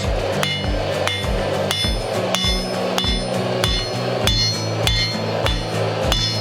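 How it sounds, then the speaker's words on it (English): Steady, regular hand-hammer blows ring out on a steel anvil while forging a medieval spike axe, each strike a sharp metallic clang with bright overtones, close and loud in a repeating rhythm. "Do some hand hammering on that."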